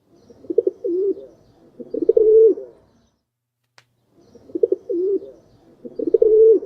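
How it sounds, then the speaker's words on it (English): Two pairs of rolling pigeon coos, a stock sound effect, each a short burst of throaty warbling notes, heard clearly and alone with a silent gap between the pairs. "There we go. Pigeon coos. We'll use that."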